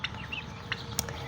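Turkeys on a poultry farm giving short, sharp calls, a few brief chirping yelps scattered over a second of farmyard ambience, with one louder call near the end.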